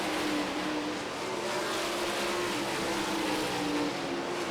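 World of Outlaws sprint cars roar around the dirt oval at Williams Grove Speedway, a steady, heavy engine drone at a distance with no pause in the noise.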